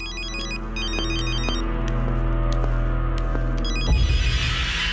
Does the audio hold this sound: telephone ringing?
yes